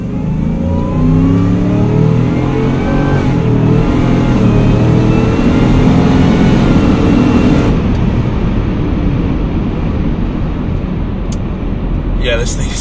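A 700 hp supercharged Ford F150 pickup pulls hard onto the highway, its engine note climbing steadily through the revs and then settling into a loud, sustained roar at speed.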